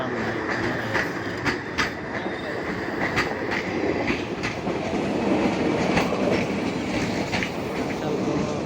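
A large express train at Majbat station in Assam rolls past close by, with rhythmic wheel clatter and a steady rumble, plus faint crowd voices in the background.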